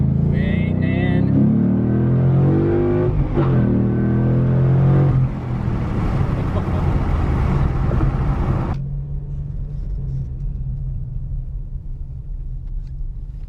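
A Ford Mustang GT accelerates hard in second gear. Its loud engine roar climbs steadily in pitch, then holds a heavy rumbling drone before dropping off to a quieter cruise, with a voice speaking briefly near the start.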